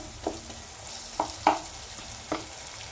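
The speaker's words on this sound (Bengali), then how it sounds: "বেশ করে কষে নিচ্ছি, আঁচটা এবার বাড়ানো আছে" Food is sautéed over raised heat. A few separate spatula scrapes and taps strike the pan at uneven intervals over a quiet background sizzle.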